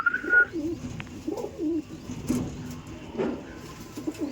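Andhra and Madras breed pigeons cooing close by, a series of soft, throaty rolling coos repeating every second or so with faint background noise and a brief passing car sound.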